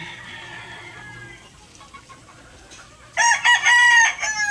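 A Tagalog native rooster crows once, loud and close, after a few seconds of quiet background with faint bird chatter.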